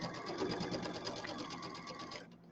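A sewing machine runs in a steady, fast, even whir while stitching polka dot fabric for a quilted pillow, then stops abruptly near the end. Low speech is faintly present beneath the motor.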